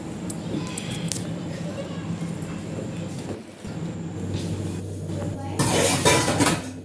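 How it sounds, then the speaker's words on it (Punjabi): Dishes clatter and clink steadily with running water, pots and plates knocking together close by, growing louder toward the end. "ਆਪਾਂ ਧੋ ਕੇ ਰੱਖਦੇ ਆ ਭਾਂਡੇ"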